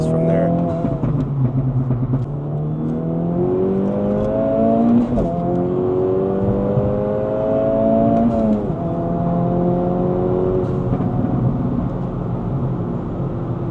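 A turbocharged 2024 Acura Integra Type-S engine pulls hard through the gears, its loud rising whine climbing, dropping at each shift, then climbing again, heard from inside the car.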